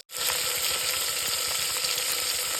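After a brief silent start, mustard seeds and other whole seeds fry in hot oil for sambar, crackling and popping in a busy, continuous sizzle close by.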